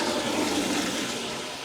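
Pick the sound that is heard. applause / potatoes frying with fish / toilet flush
toilet flush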